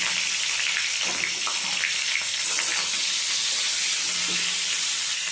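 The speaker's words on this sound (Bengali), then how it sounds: "সমস্ত পটলগুলো দিয়ে পটলগুলো ভেজে নেব প্রথমে" Pointed gourds fry in hot mustard oil, giving a loud, even, continuous sizzle with faint crackles throughout and no voices over it.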